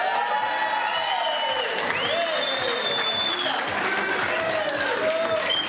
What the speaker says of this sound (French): Là on peut les applaudir vraiment très très fort.